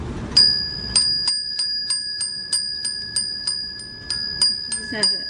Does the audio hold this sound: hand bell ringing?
yes